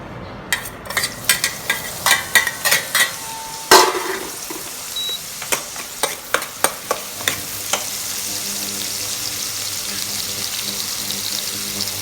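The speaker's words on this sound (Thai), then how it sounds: "ตอนนี้เราก็มาผัดเลยนะคะ" Dough for a Vietnamese sticky sweet is stir-fried in a pan: a run of sharp rhythmic spatula knocks and scrapes, then a steady sizzling hiss carries on, close and loud, with no talking.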